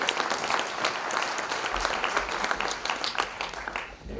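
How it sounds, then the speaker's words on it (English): An audience at a local history storytelling event claps in sustained, dense applause that stays loud and close for several seconds, with faint voices mixed in. "Give yourself a round of applause for being"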